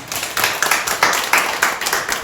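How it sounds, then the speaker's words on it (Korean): Church congregation clapping in welcome for an elder during a Korean service, a rhythmic series of strong unified claps, about seven beats in a steady pulse, close and loud. "다시 한번 박수로 환영하겠습니다."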